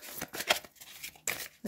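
Playing cards shuffled for a card trick, a few quick riffling bursts with short pauses between, close and fairly quiet with no talking.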